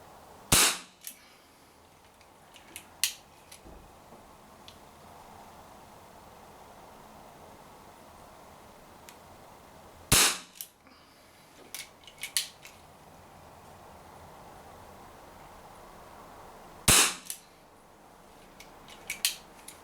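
A Borner 733 CO2 BB revolver fires three loud, sharp shots several seconds apart, each followed by faint mechanical clicks and handling noise.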